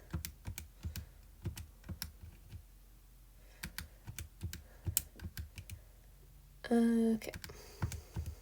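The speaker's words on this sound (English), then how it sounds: "So I'm just typing it all in." Someone types on a computer keyboard, with irregular bursts of close, crisp keystrokes and brief pauses between them; a short spoken word and a faint tone are heard partway through.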